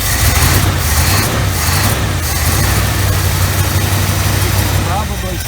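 A 1975 Chevy Camaro engine idles roughly with a misfire, cold and with its electric choke still engaged, giving a loud, uneven low rumble with periodic stumbles, and a voice talks over it.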